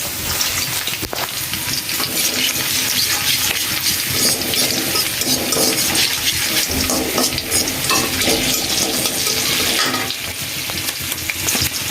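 Spices sizzle and crackle steadily in hot oil in a pan for a spicy desi chicken curry, a loud, continuous frying hiss with occasional stirring clinks and no talking.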